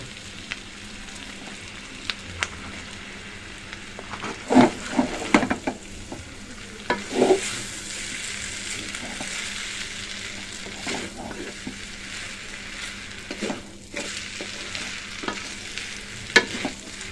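Dried oyster mushrooms sizzle steadily in a hot pan while a spatula stirs and scrapes, producing clustered clicks and scuffs over a constant frying hiss, close and moderately loud, with no talking.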